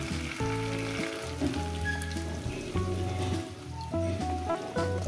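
Water poured into a sizzling rohu fish masala sends up a steady, hissing crackle of frying. The sound sits under prominent background music with sustained melodic tones.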